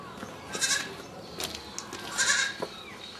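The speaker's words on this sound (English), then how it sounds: "I can hear a young goat making noise in here." A young goat bleats a few times in short, high, wavering cries, fairly close, with quiet background between calls.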